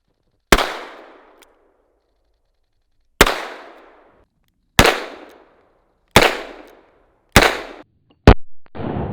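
A Korth NXS revolver firing .38 rounds: five loud, sharp single shots spaced a second or more apart, each with a ringing decay, then a sixth shot with a quick follow-up at the end, with no talk.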